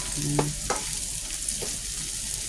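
Garlic, onion and pork belly sauté in a pan for pakbet, giving a steady close sizzle with a few scraping stirs near the start and middle, no voices.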